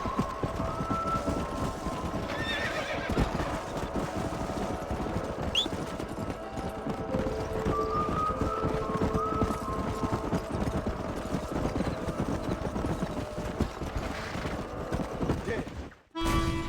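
In the Red Dead Redemption video game, horse hooves clop steadily under a dense wash of game ambience and movement noise. A faint whinny may rise briefly, and the sound cuts off sharply near the end.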